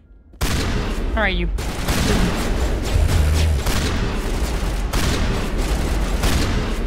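Gunfire in the Mass Effect video game erupts suddenly and keeps up as a dense, loud, continuous barrage of shots, with a voice speaking briefly at the start.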